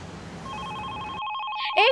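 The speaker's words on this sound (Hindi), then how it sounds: "यहाँ पे फोन बज रहा है कि वो क्यों नहीं उठा रहा" A telephone rings in a domestic drama scene, a steady electronic trill that continues without a break, nearby and fairly loud, followed by a brief higher chirp near the end.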